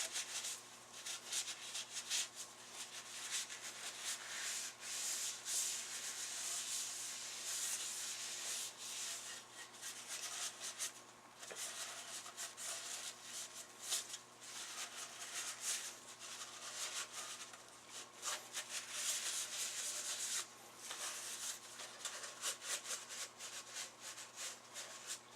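Cleaning towels rub and scrub steadily over a dusty, dirty Leslie speaker rotor in a shop, a continuous dry scratching wipe with brief pauses, fairly close and faint, with no talking.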